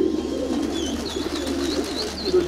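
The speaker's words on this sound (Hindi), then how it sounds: "ये कुछ पिजन्स यहाँ पर कबूतर बाजी वाले हैं, बाजी वाले कबूतर जिनको कहते हैं।" Flying pigeons kept by a breeder coo close by in a continuous, throaty, rolling murmur, with faint higher chirps scattered over it.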